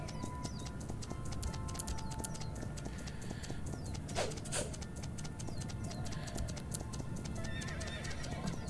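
Hooves clip-clop in a quick, steady rhythm as a horse is ridden in the Horse Life video game, with occasional bird coos and a brief whooshing effect midway.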